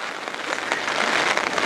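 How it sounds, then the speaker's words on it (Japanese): Heavy rain pours down steadily at an outdoor festival in Yokosuka that was called off for bad weather, a dense, hissing wash of drops on surfaces with no voices over it. "先週は灼熱だったのに今年で大雨ですね"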